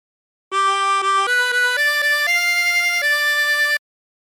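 A La Cucaracha phrase played on a 24-hole tremolo harmonica, a run of separate stepped notes with a wavering reedy buzz, each note articulated by breath, loud and close, alone without talk.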